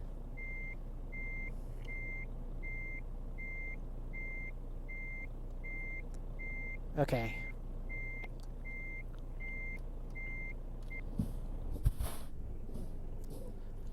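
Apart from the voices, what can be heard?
truck engine and reversing beeps, video game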